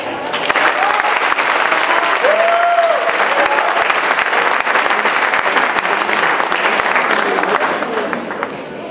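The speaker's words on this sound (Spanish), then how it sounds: "Recibimos con un fuerte aplauso a Tere Villegas." Loud, sustained applause from an audience at a university event on gender equity and violence, dense clapping filling the whole stretch with a brief whoop or cheer early on and crowd murmur beneath.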